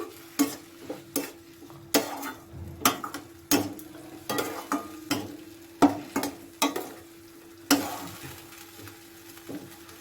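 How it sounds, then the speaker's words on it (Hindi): Soft sizzling of ginger-garlic paste frying in a pan under repeated scraping and clinking of a spoon stirring, irregular strokes close by with no voices. "इसे भी मैं इसका कच्चापन दूर होने तक फ्राई करूंगी।"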